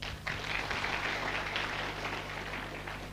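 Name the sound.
applause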